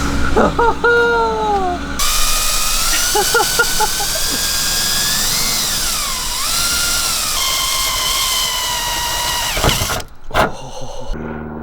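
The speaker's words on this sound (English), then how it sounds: "We're about to drill these holes." A power drill whines at rising and falling pitch for several seconds, drilling holes in a Nissan 240SX rear wing, close and loud, stopping abruptly near the end.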